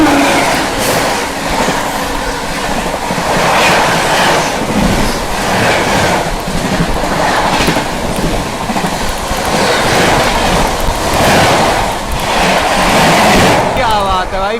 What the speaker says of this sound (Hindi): सामने से आती हुई 12423 डिब्रूगढ़ न्यू दिल्ली राजधानी एक्सप्रेस